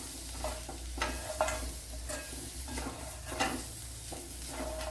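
Spice powders sauté in a pan while a spoon stirs, giving a soft continuous sizzle broken by repeated scraping strokes about once a second, close and without talk.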